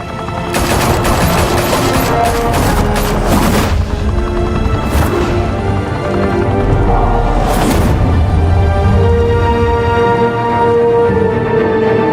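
Sustained automatic gunfire and heavy bursts in the Batman: The Telltale Series video game, loud and continuous with dense rapid volleys and booming impacts, no talking.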